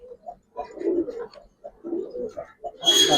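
Giribaz pigeons in a loft being handled give soft, low cooing calls in short bursts, close by, with a brighter rustle or flutter at the end.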